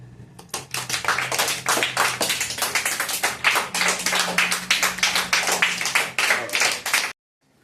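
Students in a classroom clap together for a classmate receiving a small prize, a dense, steady burst of many hands lasting about seven seconds before stopping abruptly.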